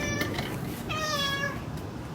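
A cat meows twice, a short call followed by a longer drawn-out meow, fairly close over a steady background hum.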